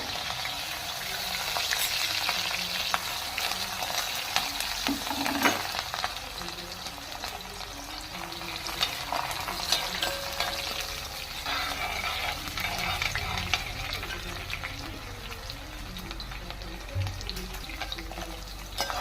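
Garlic, ginger, two green chillies and curry leaves frying in hot oil after mustard seeds have popped, for rambutan pickle; a steady close sizzle with occasional stirring clatter, no talking.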